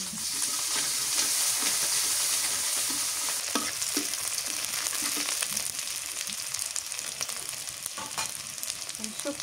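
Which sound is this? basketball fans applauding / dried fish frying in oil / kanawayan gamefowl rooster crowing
dried fish frying in oil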